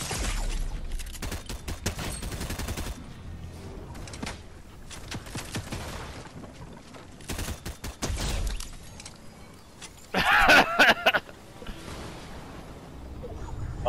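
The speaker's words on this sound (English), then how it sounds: "Had a machine gun shoot off" Machine-gun fire in a Fortnite match comes in several rapid bursts of sharp cracks, the loudest cluster near the end, with a voice talking faintly over the game audio.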